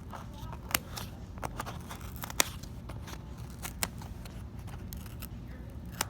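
Scissors snip around the packaging of a wood mount rubber stamp, giving quiet, close, irregular crisp cuts and crinkles over a low background hush.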